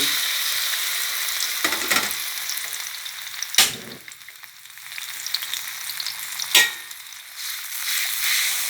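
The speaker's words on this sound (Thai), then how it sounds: "ผัดพริกแกงให้หอมก่อน" Thai curry paste stir-fries in hot oil in a wok for a chicken phat cha. A steady, close sizzle runs throughout, broken by a few sharp spatula scrapes.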